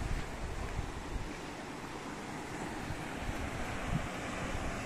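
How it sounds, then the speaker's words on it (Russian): Sea surf on the shore in Genoa, Italy, a steady broadband wash of waves mixed with wind rumble against the microphone, continuous and moderately loud with no talk. "Тут море."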